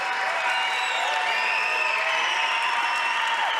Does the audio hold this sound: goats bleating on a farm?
no